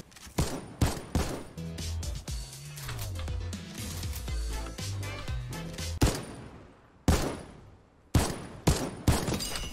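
Bursts of gunfire from a weapon in the video game Fortnite, with loud sharp shots in quick clusters, a longer sustained stretch of firing in the middle and more separate blasts toward the end.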